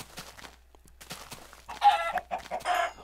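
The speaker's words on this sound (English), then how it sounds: "Oh, more chickens." Chickens cluck in a Minecraft ultra hardcore game, a few short clucks growing louder toward the end, with no talk.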